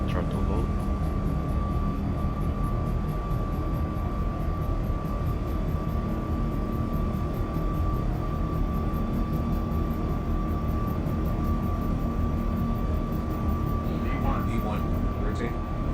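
Boeing 737 MAX 8 engines spooling at takeoff thrust in X-Plane 11, a loud steady roar with a constant whine held for the whole stretch, while a person talks over it.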